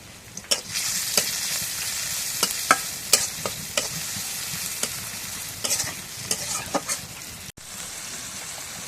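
Oil frying in a pan over a clay stove during light rain, a continuous crackling sizzle punctuated by repeated sharp utensil clicks and scrapes, close and fairly loud, with no talking.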